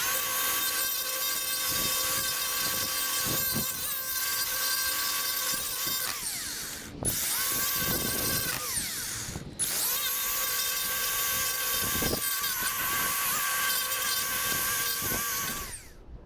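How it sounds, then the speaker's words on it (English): An EGO Power+ battery edger cuts along concrete with a steady high whine and a gritty, buzzing blade drone, dropping out briefly twice before resuming at close range. "I went for a second run with the edger just to get the depth consistent, since now the depth wheel can ride on the concrete"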